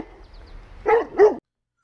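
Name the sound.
dogs barking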